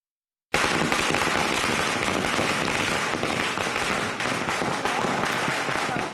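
Firecrackers in Delhi burst after a brief silence into a loud, dense, continuous crackle of rapid pops that lasts to the end.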